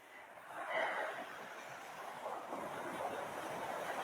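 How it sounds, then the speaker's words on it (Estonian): Ocean surf at a San Diego beach, a faint, soft wash of breaking waves heard from a distance in a low, even hiss. "siis saate nautida siin seda ookeani"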